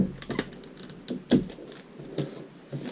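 Adhesive tape is pulled from the roll and pressed onto a paper sleeve pattern, heard as short close crackles and taps in quick irregular bursts.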